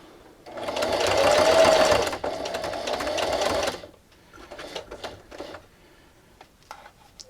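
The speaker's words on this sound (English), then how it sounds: "I'm going to backstitch 2 or 3 times here at the beginning. And then just keep sewing." Sewing machine stitching through a thick fabric dish scrubber, with a steady mechanical whir for about three seconds split by a brief pause, then quieter clicks and handling sounds.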